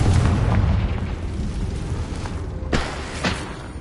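Confringo fire spell detonating in Hogwarts Legacy, a loud, deep booming blast with rumbling low end, followed by two sharper secondary bursts near the end.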